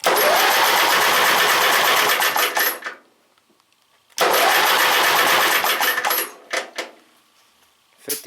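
A Briggs and Stratton opposed twin-cylinder engine runs loud and close in two long bursts, cutting out briefly between them and then sputtering to a stop, with no voices over it.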